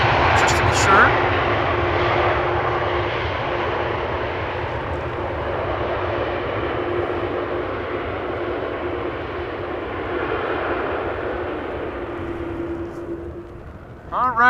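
Air China Cargo Boeing 747-400 freighter at Amsterdam Schiphol Airport, a steady distant roar of jet engines that swells and fades slowly, with someone talking over it.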